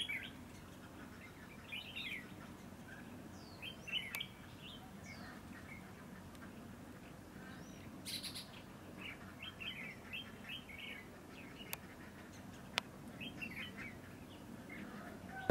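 A red-whiskered bulbul, a caged songbird, sings in a string of short, bright chirping phrases with pauses between them, moderately close, over a steady murmur of outdoor background noise and a few sharp clicks.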